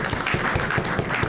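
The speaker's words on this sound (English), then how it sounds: "Let's give them a round of applause." An audience at a community meet-the-candidates event in Brunswick gives the candidates a round of applause, a full, continuous patter of many hands clapping at once, close and fairly loud throughout.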